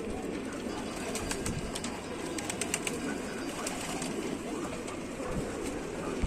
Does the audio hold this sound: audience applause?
no